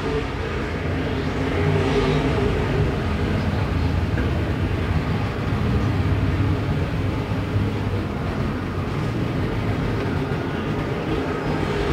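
IMCA Modified race cars run around a dirt track, a continuous loud engine roar from the pack that holds steady with slight swells as the cars come off the corner.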